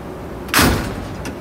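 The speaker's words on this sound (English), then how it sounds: "He's gonna get mad at me for slamming the drawer." A Snap-on EPIQ 68-inch tool box drawer slammed shut once, a sharp close metallic bang with a short rattling tail, followed by a fainter second knock.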